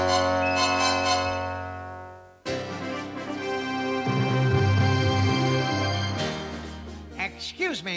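A cartoon computer book chimes the hour with a bright series of ringing bell tones, followed by a sustained musical swell and rising electronic flourishes near the end.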